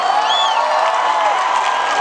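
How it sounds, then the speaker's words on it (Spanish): A large crowd at a Panteón Rococó carnival presentation in 2019 cheers and applauds continuously, with scattered whoops and a high whistle rising above the steady roar. "¡Un fuerte aplauso!"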